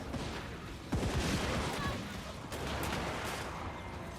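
Crane guns firing during a battle in the video game Total War Warhammer 3, a dense stream of overlapping shots and booms beneath a steady din of combat.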